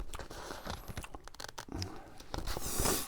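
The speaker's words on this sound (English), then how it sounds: "And then I'm going to cut across here." Scissors cutting across fabric by hand while stashbusting for a mass sewing project, giving a continuous close crunching, tearing snip sound that rises toward the end, with no voices.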